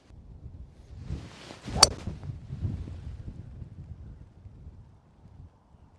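A golf ball is struck off the turf with a 3-wood on a windy course, one sharp, crisp crack in the middle, followed by wind noise buffeting the microphone.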